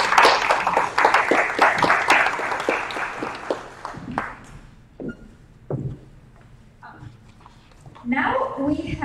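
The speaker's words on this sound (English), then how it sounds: "everyone give her a round of applause to Joel." A finance forum audience gives a brief round of applause that fades out within a few seconds, followed by scattered knocks and a speaker talking at the end.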